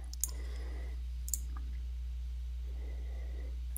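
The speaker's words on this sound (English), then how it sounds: "Now click on the file name to open the document." A computer mouse button clicks on a file name to open a document, giving two sharp, distinct clicks about a second apart over a steady low electrical hum in a quiet room.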